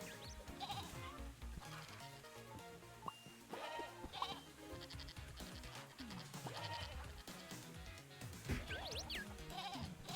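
Goats bleat repeatedly in a farm video game, scattered cries over a busy, dense mix of game sounds and music at low level.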